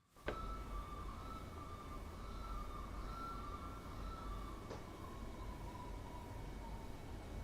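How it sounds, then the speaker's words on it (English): Police car siren wailing steadily at moderate distance, a sustained tone sliding slowly downward over several seconds with a brief click partway through, heard alone against street background noise. "Sounds like Birdie driving a police car."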